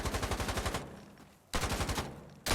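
Automatic gunfire in an esports shooter match, two loud rapid bursts of evenly spaced shots separated by a short pause, close and dominant.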